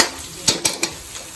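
Garlic toasting in a pan for a laing dish: a soft steady sizzle with three quick scraping stir strokes close by, then a quieter fourth.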